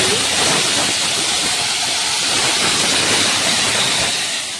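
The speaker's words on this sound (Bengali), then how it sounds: "তো চলো ডালটা ফোড়ন দিয়ে দিই, সিদ্ধ করে রাখা মুগ ডাল" Boiled mung dal poured into a hot spice tempering hisses and sizzles loudly and continuously, a dense close steam hiss with no talking.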